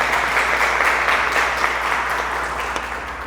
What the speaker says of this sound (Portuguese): Uma salva de palmas para São José.